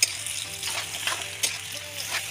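Boiled pasta being stirred into a fried masala red sauce in a pan, giving a steady close sizzle with soft scraping and stirring clatter throughout, no talking.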